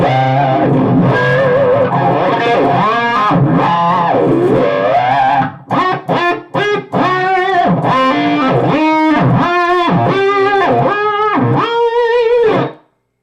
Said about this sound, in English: And again, the whammy effect.